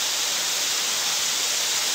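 A waterfall in San Andrés y Sauces gives a steady, even hiss of rushing water, continuous and fairly distant, with no voices.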